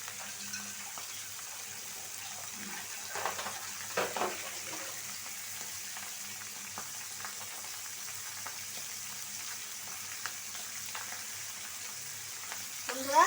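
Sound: fish frying in a pan

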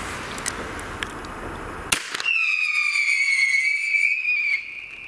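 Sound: Umarex Proton whistling pyro cartridge fired for New Year's Eve

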